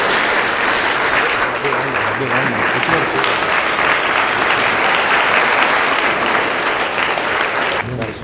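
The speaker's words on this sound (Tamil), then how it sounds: "எல்லாரும் கைத்தட்டி பார்க்கலாம்." Sustained applause from an audience at an award ceremony honoring successful Group II exam candidates, dense and steady for about eight seconds before tapering slightly at the end; no talk over it.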